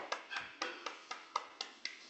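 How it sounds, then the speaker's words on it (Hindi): A small audience claps to welcome a host, a sparse run of about nine separate claps at an even, fairly quick pace, heard close and clear with no talk. "आप सबों पे जोरदार ताली से"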